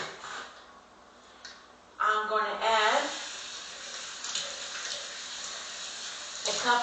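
Water poured into a green bean casserole, a short splashing stream that fades into a softer trickle, with someone talking over it.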